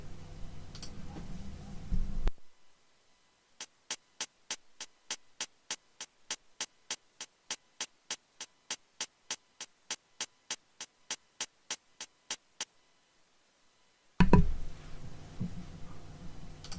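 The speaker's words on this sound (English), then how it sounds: "Low pass filter, cutting out all the highs so it gives that low fidelity type sound" A hi-hat beat run through a low-pass filter for a lo-fi tone plays as a steady train of evenly spaced, crisp ticks, clean and alone for about twelve seconds between stretches of background noise.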